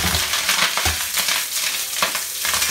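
Chicken feet and ginger slices stir-fried in oil in a hot wok, a loud close sizzle broken by repeated scraping tosses of the spatula against the metal.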